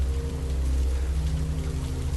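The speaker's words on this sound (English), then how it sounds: "it started drizzling" Light drizzling rain, a steady soft patter with a low hum underneath as a radio drama sound effect, continuous and without talk.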